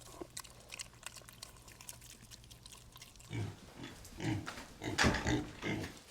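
Pigs on a farm grunt and snuffle close by in irregular bursts, getting louder and busier in the second half, with some wet splashing sounds.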